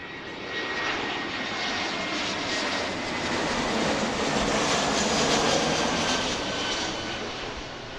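A Delta airliner taking off from runway 27 left at Philadelphia, its jet engines a loud, broad, steady roar that swells slightly and holds throughout.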